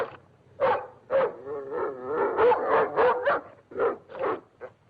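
A dog barks repeatedly and close by in uneven bursts, mixing sharp yips with drawn-out whining howls.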